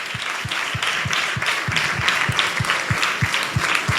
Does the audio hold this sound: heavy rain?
no